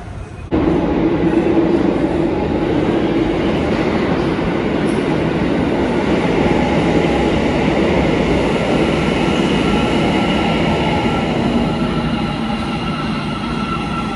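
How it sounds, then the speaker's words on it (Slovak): Almaty metro train running, a loud, steady roar of wheels and motors heard from inside the car, continuous and close with faint rail rumble throughout. "To je almatské metro."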